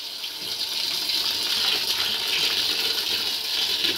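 Fresh green herbs are rinsed under a running kitchen tap, giving a steady loud gush of water spattering over the leaves that lasts the whole time, with no speech.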